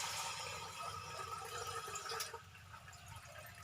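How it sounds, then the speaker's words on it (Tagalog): Water poured into a pot on a kitchen stove, a faint running, splashing fill that thins and softens toward the end, with no talking. "Nandito na tayo sa ating kalan. Lalagyan na tayo ng tubig."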